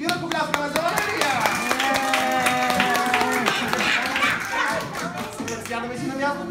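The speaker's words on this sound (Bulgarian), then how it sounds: "И ръкопляскаме за Валерия." An audience at a magic show claps for Valeria, scattered hand claps under cheerful music and a host's voice, steady through the whole stretch.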